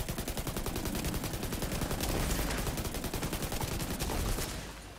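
Rapid sustained automatic gunfire lays down cover fire in the shooter game The Division 2, a dense continuous burst of fast repeated shots, loud and close, fading slightly at the end.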